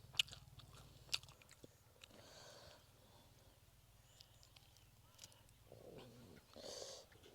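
Crispy spicy stir-fried instant noodles with shaken shrimp are bitten and chewed close up, with a couple of sharp crunchy bites early on, then softer intermittent chewing sounds that are quiet overall.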